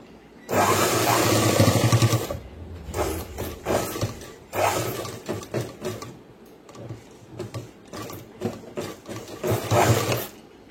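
A sewing machine stitches a boys' school uniform pant in a long opening run, then in short, uneven bursts of whirring and clatter that stop and start close by.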